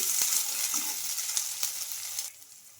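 Ginger garlic paste and tomatoes fry in a pan with a soft, even sizzle and a couple of light stirring clicks, the sound easing off toward the end.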